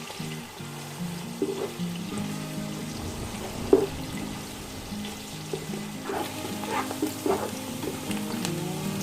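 Onions frying in a pan for peas pulao, a steady low sizzle running throughout, broken by occasional stirring clinks and scrapes, with no talking.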